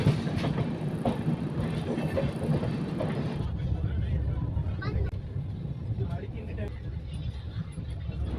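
The 12756 Bhavnagar-Kakinada Port superfast express runs along the line near Eluru, a loud rolling rumble with wheel clatter heard from on board that softens partway through.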